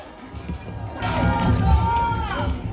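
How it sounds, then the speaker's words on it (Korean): A crowd at an outdoor political rally in front of the Seoul Central Prosecutors' Office and court swells into clapping and cheering, loud and broad, with voices mixed in. "연설해 주시는 우리 당협위원장의 총간사이신 김산동 대표님에게 큰 박수 쳐주시기 바랍니다"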